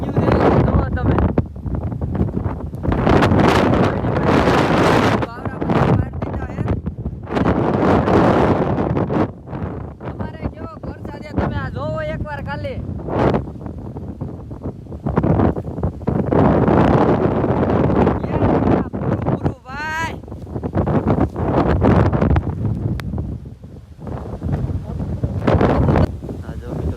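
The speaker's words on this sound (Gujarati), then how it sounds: "જો તો ફૂલ વાવાઝોડું ચાલુ થઈ ગયું છે" A strong windstorm roars in loud, surging gusts that buffet the microphone over and over, while a person talks between and under the blasts.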